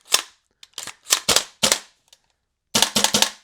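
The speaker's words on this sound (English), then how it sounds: "And the Airsoft version again is the M4A1 and the brand is GHK. This is a fully gas blowback M4," A GHK M4A1 gas blowback airsoft rifle fires sharp, loud cracking shots close by, first in spaced single and paired pops, then a quick burst of three.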